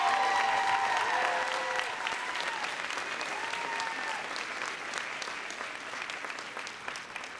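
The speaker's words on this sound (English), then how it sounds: "let's give our 3 PhD graduates a big round of applause" Sustained applause from a commencement audience greets three PhD graduates, loud and dense at first, then gradually thinning and easing off over several seconds.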